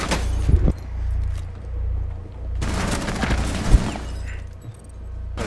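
Gunfire in Rainbow Six Siege aimed up through a floor, with sharp, loud bursts of shots mixed with breaking and shattering debris, set against a low rumble and separated by quieter stretches.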